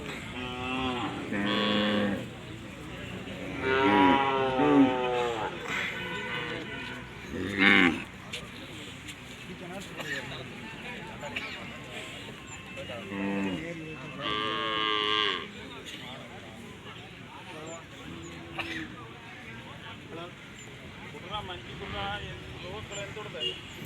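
Cattle moo repeatedly at the Palayakottai cattle market, deep drawn-out lowing at close range, while someone talks over them outdoors.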